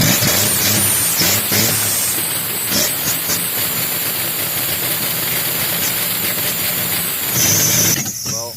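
A Ford F500 truck with a new 4.9 litre inline-six is driving, heard as a loud, steady rumble and hiss with a high whine running through most of it, easing briefly just before the end.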